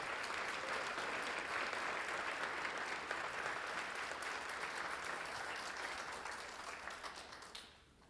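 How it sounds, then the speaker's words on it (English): A crowd at a public safety awards event applauds, the clapping thick and steady for several seconds before it thins and fades out at the end. "Give her a round of applause."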